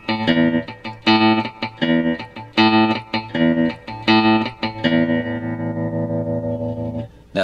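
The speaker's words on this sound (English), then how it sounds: "Then we'll do a little chicken picking, and it'll sound something like this." Electric guitar playing the chicken-picking part of a song, with snappy plucked notes in a quick rhythm through an effects unit with light distortion and reverb, ending on a sustained ringing note, loud and alone.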